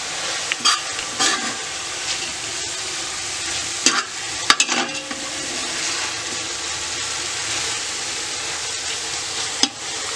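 Mine noodles stir-fry with eggs in a pan, a loud steady sizzle broken by several clattering scrapes and knocks of the utensil against the pan as the mixture is tossed.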